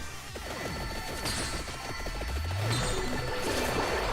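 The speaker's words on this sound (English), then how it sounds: "that's the sound of a character unlocking" A bright Vampire Survivors character-unlock jingle rings out over busy game sound effects, with rising tones and a flourish, loud and close.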